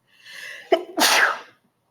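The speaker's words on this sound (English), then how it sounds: "Excuse me, I had to sneeze." A single sharp sneeze, close and loud, with a quick inhale burst followed by a forceful breathy expulsion, then silence.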